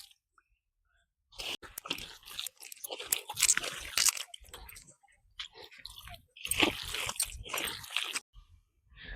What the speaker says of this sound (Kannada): ನೀರ್ ಹಾಕೊಂಡು ಈಗ ಕಲ್ಸೋಣ